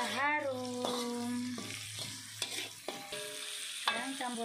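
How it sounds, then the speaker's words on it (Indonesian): Spices are stir-fried in a pan for a tripe curry, a soft continuous sizzle with scraping stirs behind a steady hum and some tonal sounds that rise and stop. "Tumis hingga harum."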